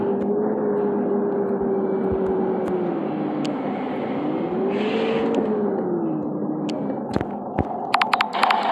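Setra S 517 HD coach in Bus Simulator Ultimate, a steady loud engine and exhaust drone with slowly rising and falling pitch as it revs, and a few sharp clicks near the end.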